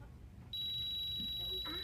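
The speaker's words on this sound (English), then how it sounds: "and basically what a theremin is it's a musical instrument," A homemade theremin, an electronic instrument built as a simple resistor circuit, suddenly sounds a loud, steady high electronic tone about halfway through after a quiet start, joined near the end by a second, lower wavering tone.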